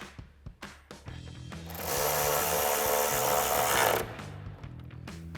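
Ratchet tightening headlight mounting hardware on a Jeep Wrangler JL, with quick clicking strokes up close, then a steady two-second whir of a power driver, followed by more ratcheting clicks.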